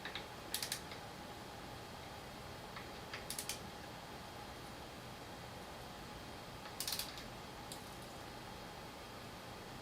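Bolts are tightened while a Talaria R MX4 electric bike is assembled, giving faint clicking bursts like a ratchet at three moments over a steady quiet background.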